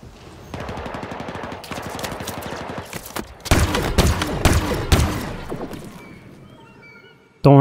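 Rapid automatic gunfire from a Halo Infinite campaign firefight on Xbox Series X, with dense overlapping bursts that swell louder midway and continue almost without pause before cutting off.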